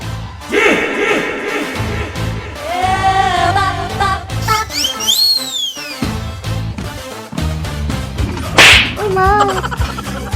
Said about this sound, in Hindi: आपने सच में मुझे थप्पड़ लगा दिया